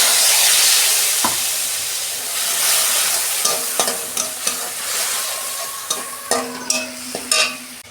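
Ground ginger, cumin and coriander paste hits a hot pan for a vegetarian papaya curry, with a loud hiss that slowly fades, followed by repeated close scraping and clacking of a spoon stirring.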